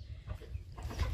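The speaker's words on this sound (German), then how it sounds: "Hühneralarm." Hens in a hot coop or farmyard clucking at close range, a short burst of low, throaty calls over a steady rumble of background noise.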